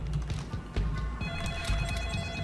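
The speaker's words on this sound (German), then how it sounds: "Moment mal, ich gehe mal ans Telefon." A telephone rings in the stealth video game Splinter Cell Pandora Tomorrow, a tonal bell-like trill repeating over low rumbling game ambience and scattered mechanical clicks, moderately loud with no voices.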